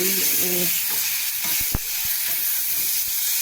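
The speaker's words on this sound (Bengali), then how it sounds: "সব মিশিয়ে ভালো করে কষাবো" A spice paste of salt, turmeric, green chili, ginger and cumin fries in hot oil with a continuous bright sizzle, a few soft knocks of a spoon stirring it close by.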